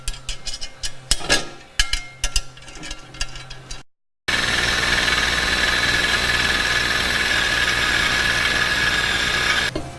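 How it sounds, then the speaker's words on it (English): Power drill cutting the second hole into a motorcycle linkage skid plate, a few clicks and clunks of handling, a brief silence, then a loud, sustained close drilling whine for about six seconds. "now we're gonna flip our tool over and drill the other hole."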